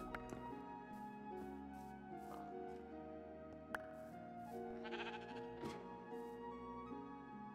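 Sheep bleat repeatedly in the Minecraft video game, several short nasal calls spread through the clip over a steady bed of game background sound.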